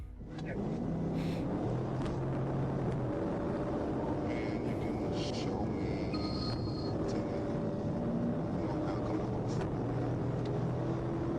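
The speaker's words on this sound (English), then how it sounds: "Hey, he got a little exhaust to it." Car engine and exhaust roaring steadily during a high-speed highway police chase, a continuous loud drone with passing traffic and wind noise throughout.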